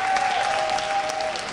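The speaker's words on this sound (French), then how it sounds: "Vous avez raison, applaudissez mollement, s'il vous plaît." A theatre audience at a spoken-word show in Gare Saint-Lazare gives a short, even burst of soft applause, a dense patter of clapping with no voices.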